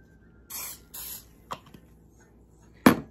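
Cooking spray sprayed into a Bundt pan in a few short hissing bursts, two quick puffs, a couple of light clicks, then one louder final spray, close and with no talking.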